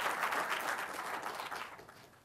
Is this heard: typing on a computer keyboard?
no